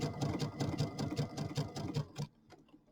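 A sewing machine stitches a narrow zigzag along quilt binding, its quick rhythmic needle taps close and regular for about two seconds before stopping into quiet.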